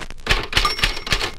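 A Brother manual typewriter from a 1960 touch-typing instructional record, heard as four or five crisp, evenly spaced keystrokes that clack close up with no talking.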